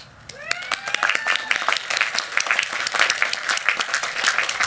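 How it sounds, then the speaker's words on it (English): Audience at a 2023 commencement ceremony applauding the faculty, a dense burst of many hands clapping that swells in and holds loud and steady, with a few whistles rising over it. "let us show them our thanks with a round of applause"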